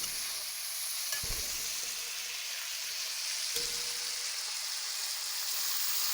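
Onions with salt and sugar sizzle in a pan as they are stirred, a steady close frying hiss with a couple of sharp spoon knocks against the pan.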